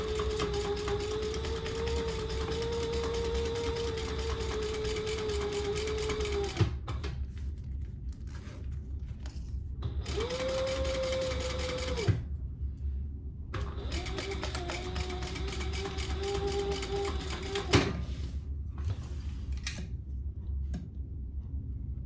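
A sewing machine bastes the side of a crossbody bag, running in three steady humming stretches separated by short pauses.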